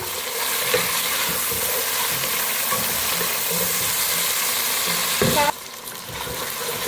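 Cumin seeds and a black cardamom pod fry in hot oil with a cinnamon piece, giving a steady, loud, close sizzle that runs on without a break. Near the end a brief scrape cuts in and the hiss drops lower.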